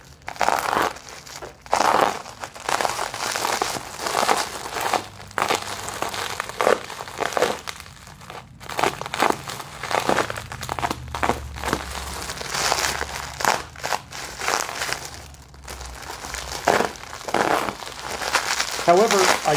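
Comic book shipping packaging is cut open, giving repeated crinkling, crunching and tearing bursts of plastic and cardboard close to the mic, with a voice talking intermittently over it.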